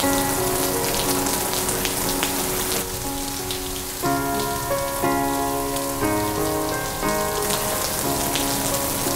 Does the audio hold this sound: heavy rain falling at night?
yes